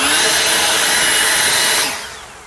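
Ego 765 CFM electric leaf blower running in standard mode, a loud steady rushing whine of air up close that then winds down and fades as it stops.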